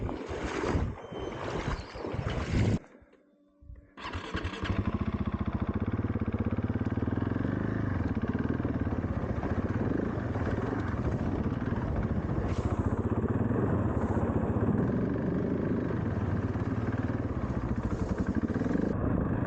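Adventure motorcycle at a lake water crossing: an engine revs in short bursts, cuts out briefly, then settles into a steady loud drone with splashing and wind rushing over it.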